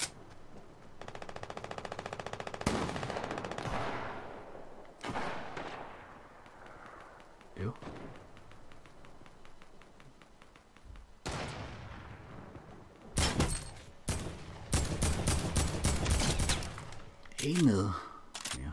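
Bursts of gunfire ring out in Fortnite Team Rumble, with loud rapid automatic volleys and sharp single shots starting and stopping across the stretch, strongest near the end, with game sounds between the bursts.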